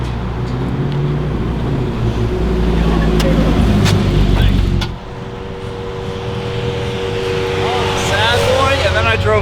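A car with a Gambler E38 engine build accelerates hard with a loud, rough engine roar that dips briefly midway before climbing again, voices talking over it.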